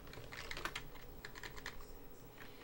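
Someone types on a computer keyboard, a quick run of faint clicking keystrokes in short bursts, close and quiet with no talk.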